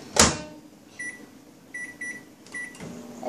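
A microwave oven door thumps shut, followed by several short, sharp keypad beeps, some in quick pairs, in a quiet room.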